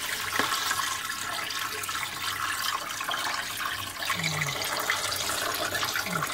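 Water runs and splashes steadily from a kitchen tap as fish are washed, a continuous hissy flow with small clatters, close by and with no talking.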